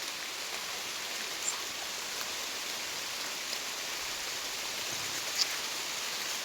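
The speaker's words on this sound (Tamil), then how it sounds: "கடவுளே மழை விட்டுருணும் முருகா, மழை விட்டுருணும்" Heavy rain pours down steadily in an unbroken, hissing wash of sound with a few faint spatters, and no one speaks.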